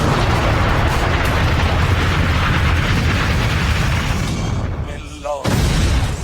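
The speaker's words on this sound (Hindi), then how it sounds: "एक बार फिर से देखिए कैसे कार में धमाके हो रहे हैं।" Firecrackers exploding inside a car hoisted by crane about 40 feet in the air during a Muharram procession, a dense, loud continuous barrage of bangs and crackling amid crowd noise, tapering briefly before resuming.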